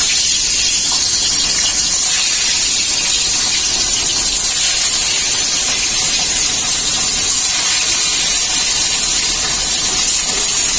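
Hilsa fish fry in very hot oil with a loud, steady hiss and crackle that holds unbroken throughout, close and dense.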